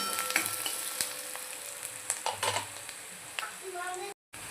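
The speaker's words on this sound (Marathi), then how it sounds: "कांदा आपल्याला होऊ देऊया" Onion and red chillies fry in a pan for a mixed dal sambar, giving a soft, steady sizzle with occasional stirring scrapes and clinks.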